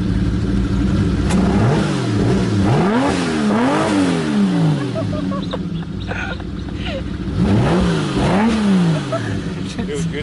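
A Ferrari 250 California Spider's engine is blipped repeatedly, each rev sweeping up and dropping back in clear swells, loud and close, with someone talking around them.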